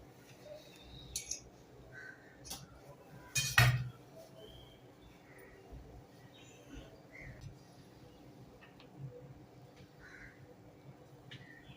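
Pieces of coconut and jaggery barfi are set onto a plate in a quiet kitchen, making a few soft clinks with one sharper clink partway through and no talking.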